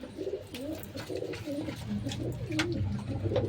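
Pigeons coo steadily and close by inside their coops, a soft rolling, throaty call repeating throughout with no talking over it.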